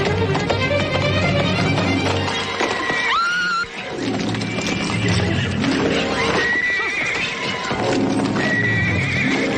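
A horse neighs loudly in long, rising-and-falling whinnies, twice and again at the end, over hoof clatter and dramatic music in a Western setting.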